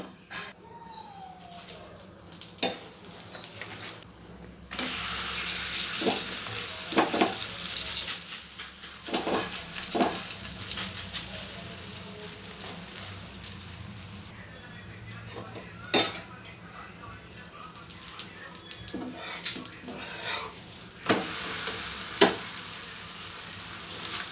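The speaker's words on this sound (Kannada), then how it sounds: "ಎಣ್ಣೆ ಬೇಕಾದರೂ ಹಾಕ್ಬೋದು ಇಲ್ಲಾಂದರೆ ತುಪ್ಪ ಬೇಕಾದರೂ ಹಾಕ್ಬೋದು ರೀತಿ ಎರಡೂ ಕಡೆಯೂ ಚೆನ್ನಾಗಿ ಫ್ರೈ ಮಾಡಬೇಕು" Toor dal obbattu flatbread frying in oil or ghee on a pan, a steady sizzle broken by frequent clinks and scrapes of a spatula and utensils against the pan.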